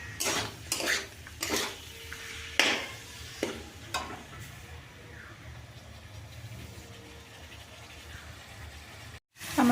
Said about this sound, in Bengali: এবারে ওই সিদ্ধ করা খিচুড়ি চাল ডালি আমি দিয়ে দেবো এই মশলাগুলো। ভালোভাবে একটু কষিয়ে নিই।